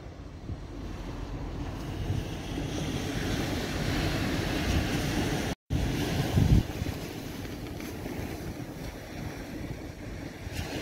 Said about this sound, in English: As you can probably hear, the wind is a bit blustery today.